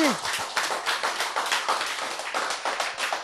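Rapid, dense clapping from a church congregation during a Korean sermon, a steady burst of many hands lasting a few seconds at moderate loudness.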